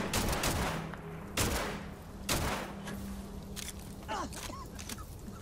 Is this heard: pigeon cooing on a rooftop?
no